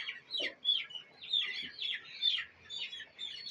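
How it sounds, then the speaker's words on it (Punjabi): Several chickens on a poultry farm cluck in quick, overlapping bursts while being caught for machine beak trimming, close and fairly loud, with no talking. "ਇਧਰੋਂ ਜੋੜਾ ਜੋੜਾ ਮੁਰਗਿਆਂ ਦਾ ਫੜ ਰਹੇ ਨੇ"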